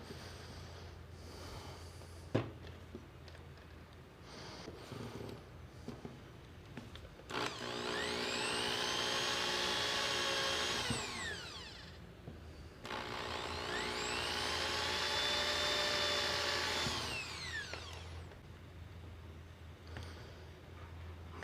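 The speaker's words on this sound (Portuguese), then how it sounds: "fazer os 2 furos, furar e unir" Power drill boring two holes into a wooden bracket for a rustic wall shelf, two sustained whining bursts of about five seconds each, near and loud, with quieter shop handling noises before them.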